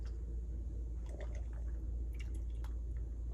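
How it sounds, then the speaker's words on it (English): Pink vodka sauce is slowly stirred and blended in a pan, giving soft, quiet squishing and liquid sloshing over a steady low hum, with faint wet clicks scattered throughout. "See how it keeps stirring? Slowly blend it in."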